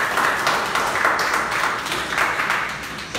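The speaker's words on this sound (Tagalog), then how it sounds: "The best nga po ulit palakpak para kay Jesus." Congregation applauding for Jesus at a Sunday church service, a steady dense wash of clapping hands, fairly loud and close, continuing throughout without a break.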